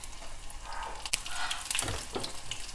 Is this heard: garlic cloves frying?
yes